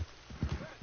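Horse hooves from Red Dead Redemption 2 clop in a quick, even rhythm for under a second, moderately close, with the faint trace of a voice.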